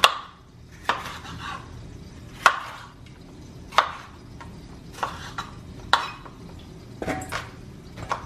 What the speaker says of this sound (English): So I'm cutting them up into pretty big pieces, which is what I want.